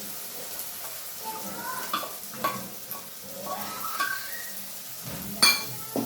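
Ginger, chili and garlic paste fries in a pan for Gujarati garlic potatoes, with soft sizzling and repeated scraping strokes of a spoon, and a sharp metallic clink near the end.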